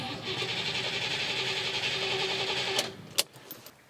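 An MGB GT engine with an ignition fault cranks steadily on the starter for almost three seconds without catching, then cuts off, leaving a few sharp clicks and knocks.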